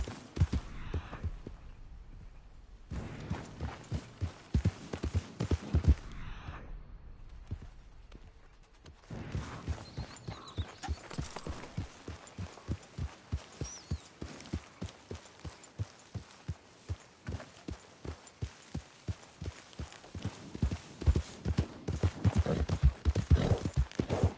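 Horse hooves clip-clop steadily in the video game Red Dead Redemption 2, a soft thudding rhythm that pauses briefly before resuming at a quicker, regular trot over a low hum.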